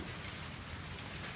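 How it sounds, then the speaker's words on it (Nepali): Small hailstones fall on a street in Japan in the evening, making a dense, steady patter with no distinct pauses and no voices. "सानो छ है असिना, असिना परिराखेको छ."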